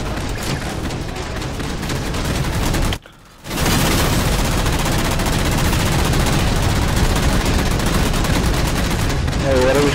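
Heavy gunfire in Halo 4 co-op, with loud sustained bursts and a brief pause before the shooting resumes, players talking now and then over it.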